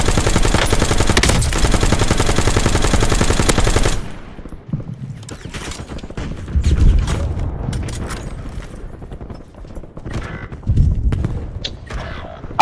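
Gunfire in a shooter video game: a dense, loud burst of rapid automatic fire for about four seconds, then scattered single shots, thuds and short bursts at varying distances.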